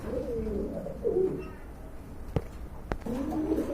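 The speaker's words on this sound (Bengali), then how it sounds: "তো আরেক জোড়া কবুতর দেখতে পাচ্ছেন" Baghdadi homa pigeons cooing up close in repeated low throaty phrases, broken by a couple of sharp knocks partway through, with faint talk around.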